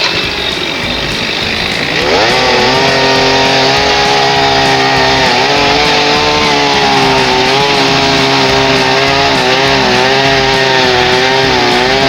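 A chainsaw cutting corner notches into logs for a log cabin, the engine rising from idle to a loud, sustained high-revving whine as the chain bites into the wood, close by with no talk.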